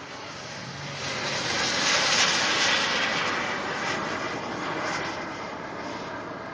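A jet-powered radio-controlled model airplane roars through a flight pass at an outdoor air show, a steady broad engine rush swelling louder mid-pass and then easing, with no talking.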